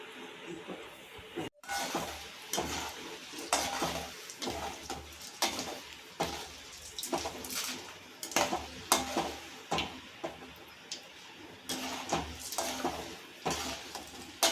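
Mustard seeds, urad dal and chana dal crackling in hot oil with asafoetida in a pan for tamarind rice, a busy sizzle broken by repeated stirring clinks and scrapes of a spoon against the pan.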